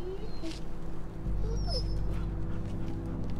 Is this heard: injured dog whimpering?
yes